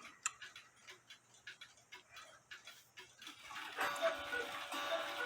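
Nisshindo 100-day torsion anniversary clocks ticking in a repair setting, a steady series of sharp, fairly close ticks about twice per second, joined near the end by a denser hiss of overlapping clicks.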